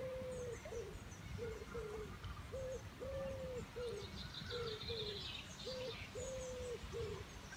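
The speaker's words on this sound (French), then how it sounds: "Douceur près de la rivière. Les oiseaux sont vraiment très présents." Repeated low hooting bird calls come in pairs at a steady rhythm, with faint higher chirps and a constant murmur of flowing water underneath.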